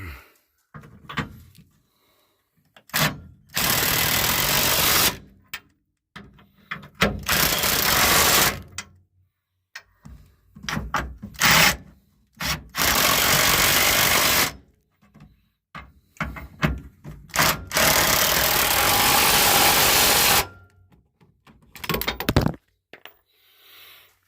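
Power tool tightening bolts on a frame hitch under a 2003 Ford F-150, repeated loud bursts of whirring rattle lasting a second or two, separated by quiet gaps and a few knocks.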